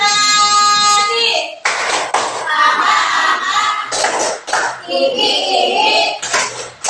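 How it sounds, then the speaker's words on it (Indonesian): A classroom of children doing the rhythmic 'tepuk konsentrasi' clapping ice-breaker in an Indonesian lesson: loud bursts of group claps in patterned sets, with young voices chanting and calling out between them. "Tepuk konsentrasi."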